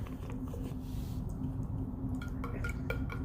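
A container of water holding a measured dose of powder is shaken, giving a steady low sloshing rumble with faint clinks and splashy ticks near the end, close to the microphone and without speech.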